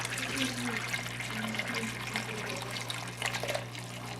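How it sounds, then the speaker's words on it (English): Bone broth made in an Instant Pot, poured through a strainer to catch onion, celery and meat pieces, gives a steady trickling and splashing of liquid, moderately close, with people talking over it. "Let's pour that in there."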